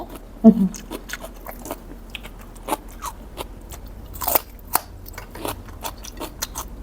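Crunchy Isan sausage is bitten and chewed close up, with a sharp crunch at first and then scattered crisp bites and chewing noises in a quiet room.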